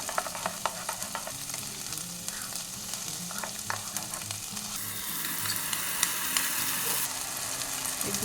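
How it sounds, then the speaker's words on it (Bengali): Okra sizzles steadily in a pan as a curd and gram flour mixture goes in, the frying swelling louder and brighter partway through, with stirring clicks and scrapes over the continuous hiss. "এই যে দই আর বেসনটা গুলে রেখেছিলাম এটা দিয়ে দেবো"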